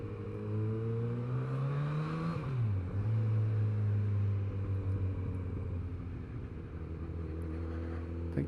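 A Kawasaki Z900RS motorcycle pulls away in first gear on a narrow country lane, its engine note climbing steadily, then dipping briefly before settling into a loud, continuous droning rumble close by.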